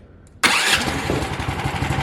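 A big block 420cc engine mounted in a GMB100 frame fires up abruptly after a quiet moment, then settles into a loud, close, rumbling idle.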